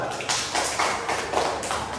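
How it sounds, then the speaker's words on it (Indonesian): A small classroom audience claps briefly for a student who has just asked a question, a couple of seconds of steady, fairly close hand claps. "Tepuk tangan dulu buat Jika."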